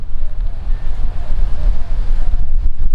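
Strong headwind gusting across a disc golf course, a steady, loud, low rumbling roar buffeting the microphone for the whole stretch with slight surges and dips.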